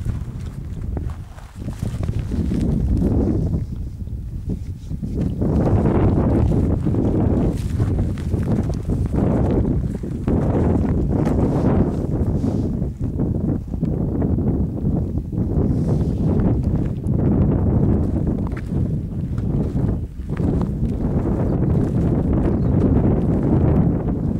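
Strong wind buffets and roars across the microphone, a constant loud rumble with gusting swells and footsteps faintly beneath.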